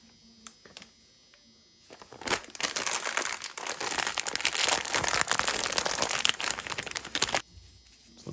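Close, loud crinkling and rustling of packaging as a new air filter for a 1981 Honda XL500S motorcycle is unwrapped, starting after a few faint clicks and continuing steadily for about five seconds.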